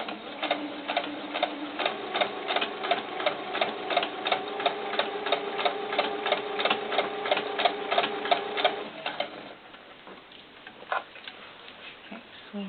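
Sewing machine running steadily through a fur-trimmed doll beret, a quick even ticking of stitches for about nine seconds, then stopping into quiet handling noises.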